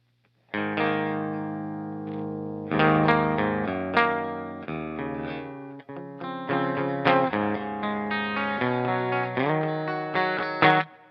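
A distorted electric guitar with a split-coil pickup plays chords and sustained notes with a warm, slightly gritty tone, ringing out alone with some effect coloring.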